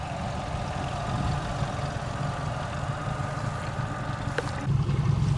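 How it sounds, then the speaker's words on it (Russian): A boat's engine idles steadily on water during a run-in of a new fishing boat, a low continuous drone with a faint rumbling throb and no talk. "А тут вроде такой мотор,"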